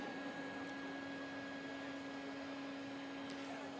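A steady, constant mechanical drone with a fixed hum from a vacuum cleaner running continuously as part of a Rube Goldberg machine, with no other sounds over it.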